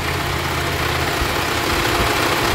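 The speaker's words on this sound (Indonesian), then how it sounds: "Nah kayak gini masih oke banget Jul, masih jos ya kondisi mesin lur." A 2014 Chevrolet Captiva 2.0 diesel FWD engine idles steadily at close range, a continuous low rumble with even vibration and no other sounds.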